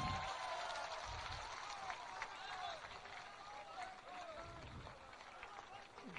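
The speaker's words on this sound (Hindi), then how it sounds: "जोरदार ताली बजाइए।" An audience at a Jan Suraaj political party gathering claps in steady, dense applause lasting several seconds, with a voice speaking over it.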